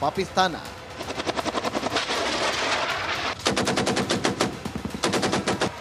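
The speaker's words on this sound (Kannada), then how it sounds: "ಸೂರ್ಯ ಮುಳುಗುತ್ತಿದ್ದಂತೆ ನಿರಂತರ ಗುಂಡಿನ ದಾಳಿ ನಡೆಸ್ತಾ ಇದೆ" Sustained bursts of machine-gun fire in a cross-border ceasefire violation at dusk, rapid rattling volleys that pause briefly and resume, with a helicopter-like drone underneath.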